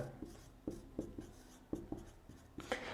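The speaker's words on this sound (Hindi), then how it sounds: "अब इसमें हम एक पॉइंट लिखेंगे नोट लगाकर" Chalk or marker taps and scratches against a board as a note is written in a classroom, a quiet, irregular series of short strokes with low background hum.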